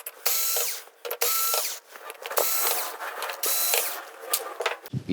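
Screws come out of the metal plate on an LG 55LS4500 TV, heard as a power screwdriver's buzzing whirr in several bursts separated by brief pauses, close and fairly loud.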